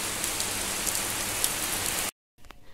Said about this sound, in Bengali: এই দেখো কত বৃষ্টি, জোরে বৃষ্টি এসছে।